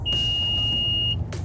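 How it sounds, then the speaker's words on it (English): An Outstorm X4 all-terrain self-balancing scooter gives one steady, piercing electronic calibration beep lasting about a second, loud and close, then cuts off cleanly over a low background rumble. "until you hear that long beep"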